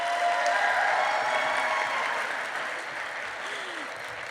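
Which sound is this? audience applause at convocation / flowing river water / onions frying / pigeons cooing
audience applause at convocation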